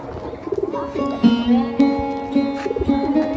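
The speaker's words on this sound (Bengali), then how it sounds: "আর এটা হলো আমাদের বাড়িতে কবুতর" Domestic pigeons kept at a village home coo close by in repeated soft, throaty phrases, several calls in quick succession with a little background rustle.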